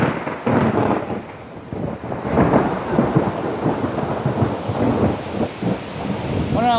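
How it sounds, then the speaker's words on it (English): Rain pours and drips from pine trees during a severe storm with hail and strong winds near Willcox, Arizona: a dense, steady wash of rain with low rumbling gusts pressing on the microphone throughout. "Getting rained on by pine trees."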